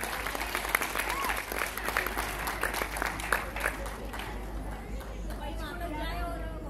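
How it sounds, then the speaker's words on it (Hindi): An audience claps at a stage program after a gold coin gift, a lively burst of applause with murmured chatter that fades out toward the end. "आपकी तालियां हो जाए।"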